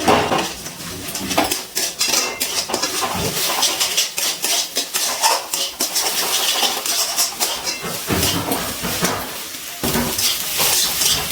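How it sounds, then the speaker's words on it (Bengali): An egg seasoned with salt and black pepper fries in a kadai, a steady hiss of hot oil punctuated by frequent clattering and scraping of a metal spatula against the pan. "ডিমটা কিন্তু খুব ভালোভাবে ভেজে নিচ্ছি"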